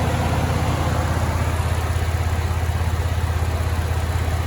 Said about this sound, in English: And that Ecoboost engine is running smooth.